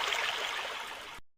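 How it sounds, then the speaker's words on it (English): Water rushing steadily over rocks as a river drops from a height into a waterfall, a continuous broadband hiss that holds for over a second, then cuts off abruptly. "When a river flows over rocks from a height, it forms waterfalls."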